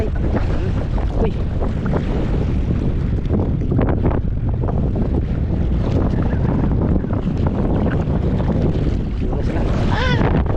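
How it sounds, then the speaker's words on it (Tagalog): Strong wind roars across the microphone on a small fishing boat at sea, a loud continuous buffeting with water and hull noise beneath, while voices shout intermittently over it. "Grabe lakas ng hangin"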